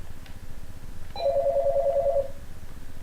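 A telephone on a radio call-in line rings once in a long electronic trill, clear and steady over a low background hum.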